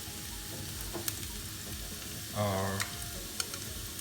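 Garlic and chopped chilies sauté in a pan with a steady low sizzle, joined by scattered clinks of a utensil against the pan and a short swell of louder frying. One word is spoken briefly.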